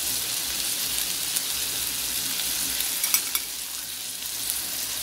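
Thai basil stir-fry with minced pork and shrimp sizzles loudly and steadily in a hot pan, a dense continuous hiss with a couple of sharper clatters of stirring.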